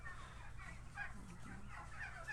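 Turkeys on a farm gobbling and calling in scattered bursts, fairly close, over a steady low background rumble with no talking.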